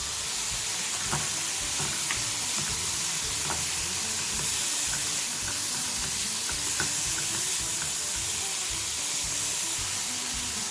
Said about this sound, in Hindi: अब मैं इसमें प्याज ऐड करूँगी।